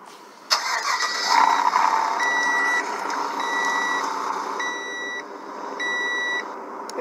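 A 2015 Range Rover engine in a video game cranks and starts with a rising whir, then idles as a series of short electronic beeps chime at regular intervals.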